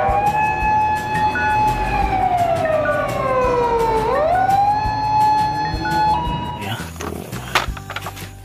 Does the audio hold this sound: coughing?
no